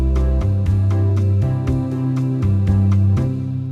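Arranger keyboard playing a song ending, with a steady beat of percussive hits over sustained bass and chord tones that change a few times before fading out.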